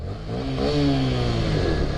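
A Honda Grom small motorcycle engine revs up and holds a buzzy, rising drone, close and fairly loud, with no talking.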